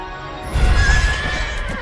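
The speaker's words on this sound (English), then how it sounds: "It's a Sharandar horse." A horse in a Dungeons & Dragons game, a Sharandar horse, gives one loud whinny over a steady bed of game ambience, swelling in the middle and trailing off.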